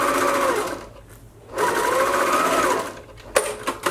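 A sewing machine stitches a see-through smile face mask in two steady runs with a pause between, loud and close, ending in a few sharp clicks.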